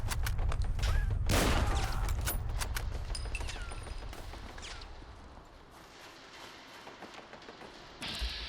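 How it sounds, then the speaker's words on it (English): Bursts of turret gunfire in Fallout 4 crackle in rapid volleys, loudest early on, then thin to scattered sharp shots and a fading rumble before one last burst near the end. "Yeah, that's a turret."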